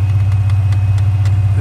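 A seized Ford Explorer engine idles roughly and loudly up close, a deep uneven throb with a regular knocking pulse.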